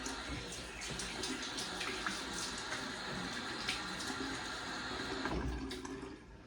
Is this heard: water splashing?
yes